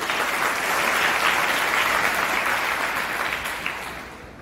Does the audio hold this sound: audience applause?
yes